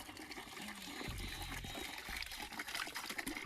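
Water splashes and trickles steadily as it is poured outdoors on a farm field, a continuous liquid gush in a faint, open-air setting.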